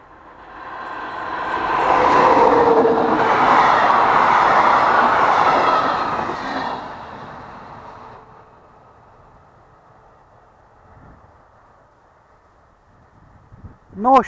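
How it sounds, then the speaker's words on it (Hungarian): A class 154 Szili electric locomotive hauling an Intercity train passes close and loud with a rumbling roar, then fades away. A quieter stretch follows, and a rising tone swells at the very end. "a 154-es Szili elhaladt Intercity vonatával"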